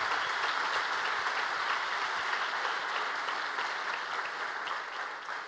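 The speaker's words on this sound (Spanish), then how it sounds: "Denle un fuerte aplauso al Señor." A church congregation at a youth night service applauds loudly and steadily, a dense wash of many hands clapping at once that holds for several seconds and eases only slightly at the end.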